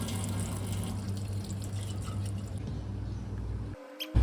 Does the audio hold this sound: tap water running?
yes